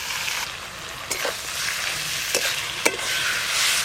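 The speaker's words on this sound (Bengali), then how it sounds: "এভাবে নাড়তে নাড়তে মোচার যে জলটা আছে পুরোটাই শুকিয়ে নেব" Ground banana flower paste and potatoes being stirred into fried spices in a pan, with a steady sizzle and a few sharp scrapes of the spoon.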